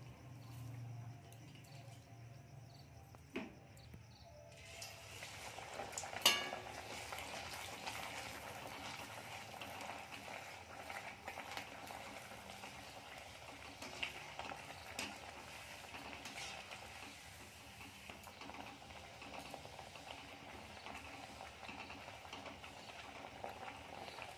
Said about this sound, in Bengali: এবার আমরা এটাকে একটু ব্রাউন কালার করে ভেজে নেব।